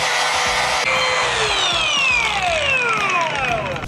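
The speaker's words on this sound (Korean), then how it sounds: "와, 순식간에 용접 부분을 지워버리고 있습니다." A 3M Cubitron 3 flap disc on an angle grinder grinds a weld off a steel H-beam, giving a loud, continuous abrasive roar with whining tones that sweep downward as the disc loads up. There is no talking.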